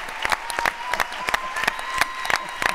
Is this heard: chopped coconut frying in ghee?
no